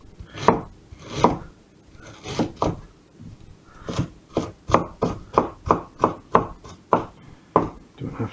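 A knife chops vegetables such as celery on a cutting board in a home kitchen, giving a close series of sharp, uneven thumps that settles into a fairly steady rhythm, with no voices.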